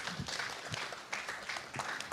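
A modest round of audience applause at a citizens' forum discussion event, scattered hand claps forming an uneven patter, fairly quiet and somewhat distant.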